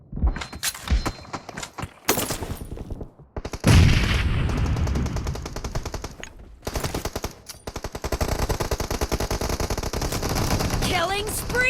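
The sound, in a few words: gunfire from M416 in video game PUBG Mobile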